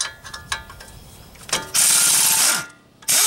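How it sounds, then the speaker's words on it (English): A pneumatic air impact tool loosening strut bolts on a 2001-2005 Honda Civic, with a few light clanks, then two loud sustained bursts of rattling hammering up close and a short pause between them. "And here we go with the first bolt removal so far. Gotta love air tools."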